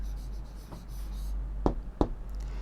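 Chalk or marker writing a word on a classroom board, with faint scratchy strokes early on and two distinct firm taps or strokes close together near the end.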